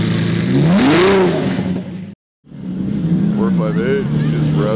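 A first-generation gated Ferrari 458 at a supercar and hypercar event revs nearby, screaming loudly as it climbs and falls in pitch, then cuts out briefly before rising again through another rev sweep.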